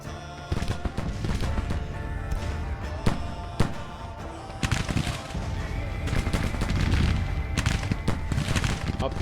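Musket volleys crackle through a Civil War battle in a video game, dense overlapping shots with sharp isolated reports standing out, loud and continuous over a rumbling battlefield din.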